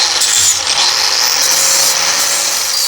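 A flap disc on a power grinder grinds undercoating crud off rusty metal beneath a vehicle's battery box, a loud, steady, close abrasive whine with no pause.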